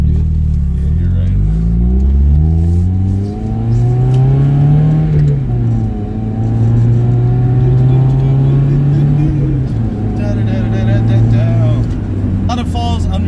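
A Mazda Miata's engine revs loudly and steadily, with a sharp blip and drop in pitch as a rev-matched downshift is made, the engine note sustained close up throughout.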